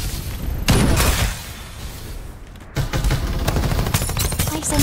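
Video game gunfire in Farlight 84, with rapid crackling volleys and booms in loud clustered bursts, a short lull midway, then sustained firing again.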